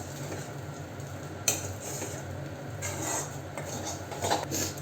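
A spoon stirs egg aval upma in a pan on the stove, with soft scraping and faint sizzling and a few sharper clinks of utensil against metal, close by and fairly quiet.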